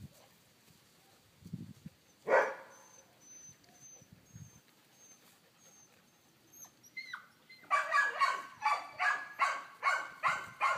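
Redbone hound and black lab mix puppies about ten weeks old, giving a quick run of small, high yips and barks near the end after a quiet stretch with a faint whine.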